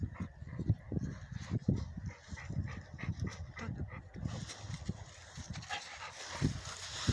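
A dog out on a walk pants and huffs close by with rhythmic breathy bursts and small whimpers, while faint background sounds continue.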